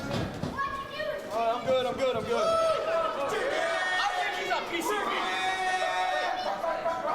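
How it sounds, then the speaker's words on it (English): Independent wrestling event crowd heckling a wrestler, a lively mix of raised voices, shouts and chatter from the stands, steady and fairly near throughout. "the crowd is giving Caleb a very hard time"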